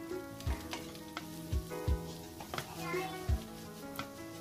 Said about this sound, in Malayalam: ഇനി ഈ സവോള നന്നായിട്ട് വഴറ്റി കൊടുക്കണം.